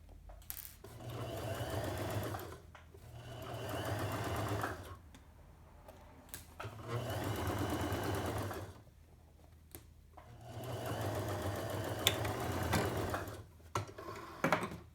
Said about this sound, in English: I'm stitching down the seam allowance towards the pocket